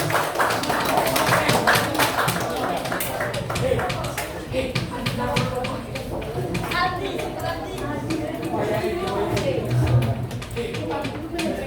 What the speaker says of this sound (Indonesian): Beri tepuk tangan untuk kelompok 6.